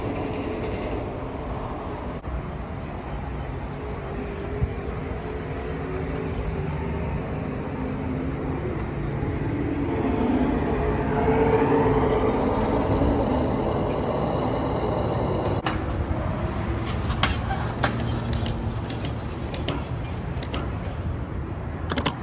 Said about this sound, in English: I hear the race cars there for a minute.